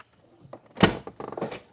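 A Lexus GX460 rear door unlatches with a solid thunk, followed by a short rattling creak as it swings open, close by.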